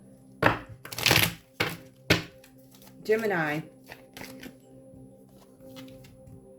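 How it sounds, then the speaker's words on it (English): A tarot deck is shuffled in several crisp, rapid bursts of riffling and tapping cards, close and fairly loud, with a short spoken word between the bursts. "Let me shuffle these up again."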